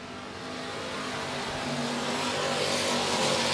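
Race car engine roaring past during a heat race at Monett Motor Speedway, a single rising pass that swells in loudness over a few seconds.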